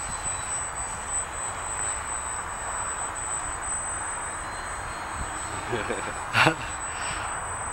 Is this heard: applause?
no